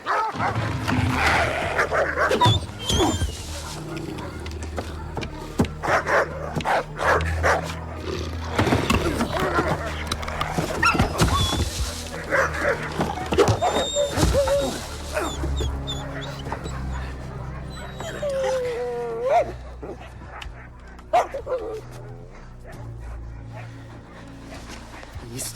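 Buck, a large dog, barks, whimpers and growls in loud bursts, mixed with rumbling and other noise, while people talk nearby.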